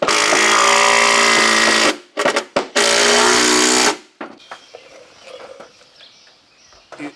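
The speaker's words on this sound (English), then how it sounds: "I'm going to grab us some screws to bolt these things in" A power drill drives screws into wooden stair stringers for a simple outdoor deck. It gives two loud, close whirring bursts with a short stutter between them, then a pause filled with faint clatter and handling noise.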